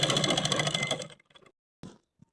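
A sewing machine stitches a petticoat belt strip with a rapid, close rattling run lasting about a second, then stops, leaving a few small clicks and handling knocks.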